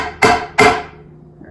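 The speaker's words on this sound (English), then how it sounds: "get our nails, hammer it in" Two sharp, loud hammer blows drive nails into a wooden board, spaced about a third of a second apart, each ringing out briefly before a quiet tail.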